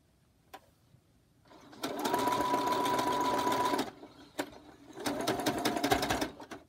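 Sewing machine stitching pinned half-square-triangle quilt pieces for a pinwheel block, two loud sustained runs of close motor hum with a short pause between, plus a few faint clicks.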